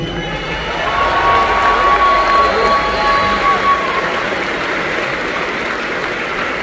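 An audience at an MMA event cheers and applauds as a crowd roar swells and then eases, with a voice heard over the noise.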